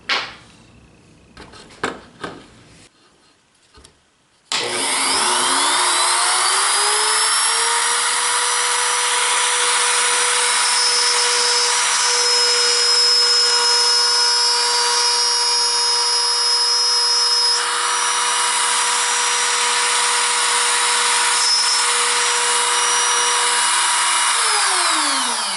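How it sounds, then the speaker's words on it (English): A power drill with a 1/8 inch bit bores into wood on a straight line jig, whining loud and steady for about twenty seconds after a few short handling clatters and knocks. "Change out my bit to this 1/8 inch bit."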